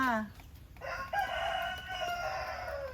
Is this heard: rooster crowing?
yes